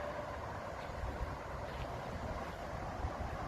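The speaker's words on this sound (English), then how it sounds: "Alright, the wind's back." Wind blows steadily outdoors in a food forest, making a continuous broad rushing noise with faint buffeting on the microphone and no clear gusts or breaks.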